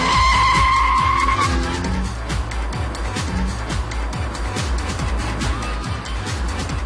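A car races past on a track, a loud engine roar with tire skidding and squeal sweeping by, then a rough continuing rumble as it pulls away.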